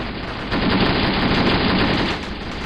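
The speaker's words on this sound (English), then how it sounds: "just providing some really nice machine gun fire" A sustained machine gun burst from a tank battle in the game Graviteam Tactics, Operation Hooper, with loud, dense rapid shots that run continuously for a few seconds.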